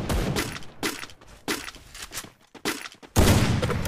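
Gunshots fired in a Free Fire Clash Squad match: sharp, loud cracks arrive in uneven bursts with short gaps between them, ending in a heavier, sustained burst of fire.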